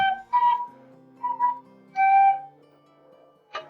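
A whistle or woodwind in a music recording plays a few sustained melodic notes in separate phrases, clear and close in a dry, acoustically treated home studio room, with no talk.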